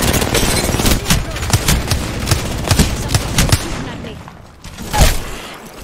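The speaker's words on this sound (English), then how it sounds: "They're shooting at me" Enemy gunfire in Apex Legends cracks out in rapid, loud volleys of close shots, slackening into a few scattered bursts and one heavy blast near the end.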